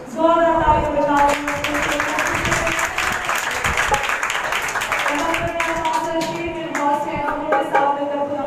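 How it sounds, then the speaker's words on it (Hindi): Loud sustained clapping from a congregation at a Sukkot Feast of Tabernacles gathering, dense and continuous for several seconds, with sung or spoken voices and a held musical tone running underneath. "जोरदार तालियां बजाओ।"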